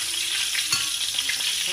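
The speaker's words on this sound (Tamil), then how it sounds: "இப்போ வந்து பட்டை மிளகாய் போட" Dried red chillies fry in hot oil with a dense, steady sizzle and crackle heard close up, with no voices.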